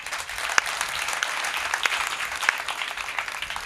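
An audience at a kirtan applauds in a lively, sustained burst of clapping, with a few sharper individual claps standing out against the dense, even crowd noise.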